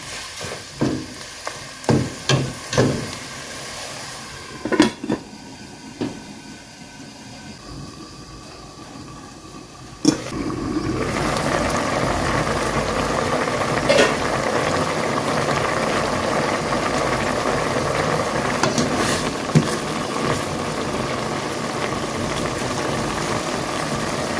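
A pot of sour bamboo shoot curry with chicken bubbles steadily, first with a few clanks and stirring knocks, then a loud continuous boil and sizzle filling the rest of the clip, no voices.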